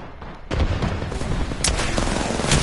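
Video game gunfire erupting after a brief quieter lead-in: a loud, steady barrage of rapid shots and booming impacts that runs without pause to the end.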